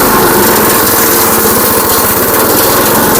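Walk-behind lawn mower engine running loud and steady in a durian orchard, a continuous high buzzing drone held at high revs throughout, close by with no voices.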